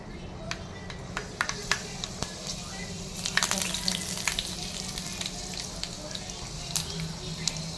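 Fenugreek seeds and curry leaves frying in a little oil for a potato fry, a close, steady sizzle with sharp crackles and pops scattered throughout.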